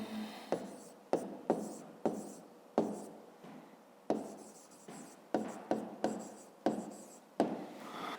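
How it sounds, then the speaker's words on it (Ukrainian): Pen writing an answer by hand on paper, a close, dry scratching that comes in short strokes separated by brief pauses, with no voices. "Записуємо тоді відповідь, пишемо відповідь"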